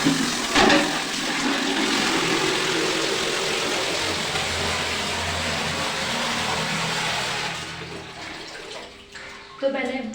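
Water pours steadily and noisily into a container for several seconds, a continuous gushing rush that thins out and stops near the end.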